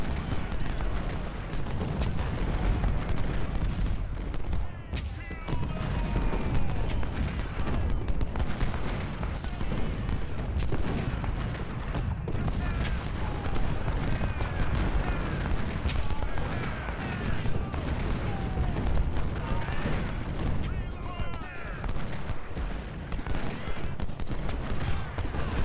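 Artillery fire in the Civil War strategy game Ultimate General: Civil War, a dense, continuous roar of booming cannon blasts and crackling musketry that rumbles loudly throughout without pause.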